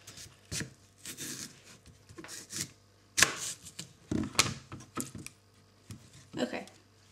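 A knife cuts open red Jazz apples in a kitchen, giving scattered soft cutting and rubbing sounds with a few sharp close clicks, at a low level.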